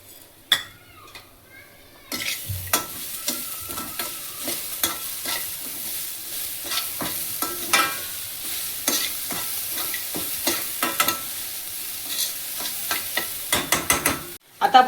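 Sugar stirred into coconut rice in a pan for Maharashtrian narali bhat, with a spoon repeatedly scraping and clicking against the pan over a soft sizzle, close and continuous.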